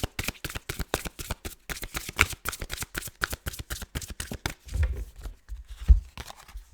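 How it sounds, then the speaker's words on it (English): Tarot cards riffle-shuffled in a fast, steady run of crisp flicks, then slowing into scattered softer slides and taps as cards are pulled from the deck, close and clear with no talk. "Pulling some more cards, maybe even some final cards here."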